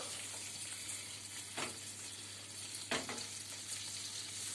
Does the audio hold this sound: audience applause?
no